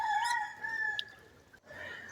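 A rooster crows once on a farm where chickens, ducks and pigeons are kept, a long drawn-out call with a brief cluck after it, moderately close and heard alone.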